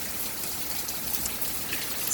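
Steady, dense rain pours down during Hurricane Michael, a continuous wash of hiss heard outdoors with no voices.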